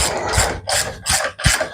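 A ratchet wrench snugs up bolts on a John Deere crawler final drive, giving four quick bursts of close, loud clicking separated by short pauses, with no voices.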